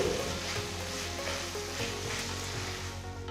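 Onions and tomato pieces sizzle and fry steadily in a pan for a hotel-style Chennai vada curry, with a continuous close hiss and occasional stirring, no voices.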